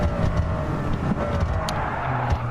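A race car in the Toyota Cup at Road Atlanta, its engine droning loud and close with shifting tones as it slows into a braking zone.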